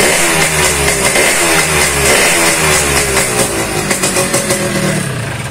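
A Yamaha RX King motorcycle with a newly fitted electric starter runs loud and close, its engine churning steadily and then revving in rising pulses toward the end, with no talk over it.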